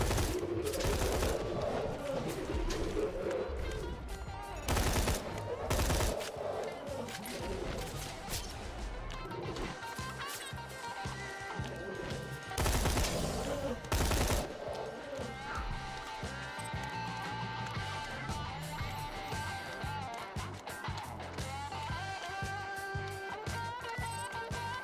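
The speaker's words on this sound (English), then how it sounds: "Not full auto, just burst fire." Gunfire from a burst-fire weapon in Borderlands 2, with short loud volleys repeating at intervals over steady game music and effects, plus a few heavier crashing bursts mixed in.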